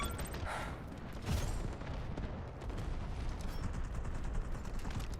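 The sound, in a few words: AK-12 rifle gunfire in video game Delta Force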